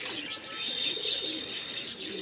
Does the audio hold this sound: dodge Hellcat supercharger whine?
no